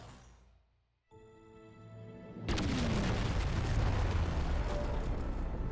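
A loud boom from a Power Rangers Dino Fury episode erupts after a quiet, tense musical lead-in, then gives way to a sustained rumbling roar of debris and fire that holds steady to the end.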